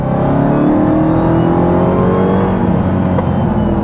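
A Dodge Charger Hellcat Widebody's supercharged engine pulling hard on a mountain road, heard from inside as a loud, continuous roar that rises steadily in pitch under throttle.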